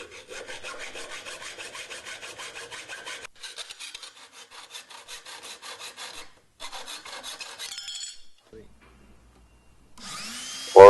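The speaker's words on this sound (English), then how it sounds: "And then cut using either a hacksaw" Hacksaw cutting through stair nosing, a steady run of rhythmic back-and-forth rasping strokes close by, pausing briefly before a final burst of strokes, then a short clatter.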